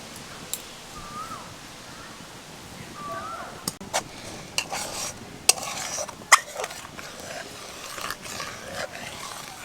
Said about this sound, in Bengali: দুধটাকে এভাবে নাড়তে থাকবো, এর ফলে সরগুলো খুব ভালোভাবে দুধের মধ্যে মিশবে